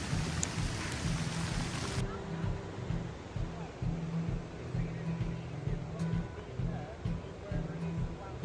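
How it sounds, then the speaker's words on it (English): Hail falls outdoors as a dense, continuous patter that stays steady and fairly loud from start to finish. "Now hailing."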